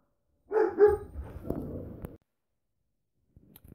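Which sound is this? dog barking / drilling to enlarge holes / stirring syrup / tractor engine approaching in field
dog barking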